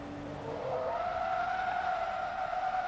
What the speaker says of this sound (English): we'll do the usual and handbrake it across the line